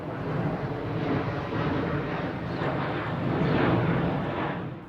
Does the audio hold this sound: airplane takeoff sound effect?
yes